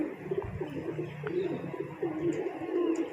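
Breeder pigeons coo softly in repeated low, rolling calls, close by over a steady background hum.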